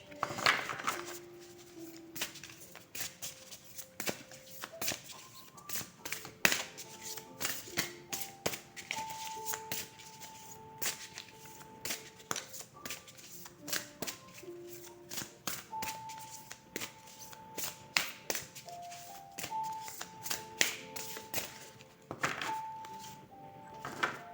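Tarot cards are handled and shuffled during a reading: soft, quiet flicks, taps and thunks come in uneven bursts, close by, with no voice over them.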